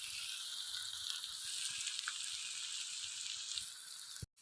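Potatoes frying in a pan give off a steady, loud, dense sizzle that holds evenly throughout, ending abruptly with a brief knock.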